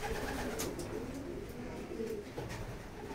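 Racing pigeons cooing inside a loft as they wait for a derby, with soft, continuous overlapping coos close by and a few brief flutters or chirps mixed in.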